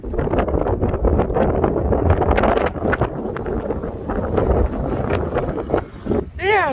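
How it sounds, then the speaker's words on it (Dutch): Gusty wind buffets the microphone outdoors, rumbling and rushing in uneven bursts, with a brief high chirping sound near the end. "Het waait lekker."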